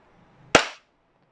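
A single sharp crack from an airsoft gun being fired, close and loud, with a quick bright snap that fades fast into quiet.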